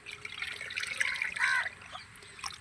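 Water trickles and splashes as it is poured into a container, soft and close, swelling briefly then tapering off.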